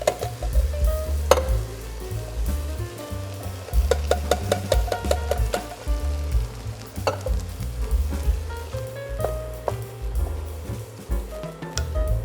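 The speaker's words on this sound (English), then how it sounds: "Into this pot are 2 cans of diced tomatoes." Two cans of diced tomatoes cook in a pot with a loud, close sizzle and bubbling, broken by repeated stirring scrapes and a few clinks, and no one speaks.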